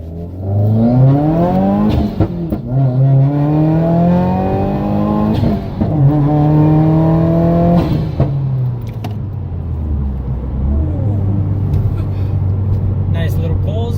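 Subaru WRX (2018) accelerating hard from about 10 mph in first gear, engine note climbing steadily through two long pulls with a gear change between, loud and close from inside the car, ending as it settles back down; a voice speaks briefly over it.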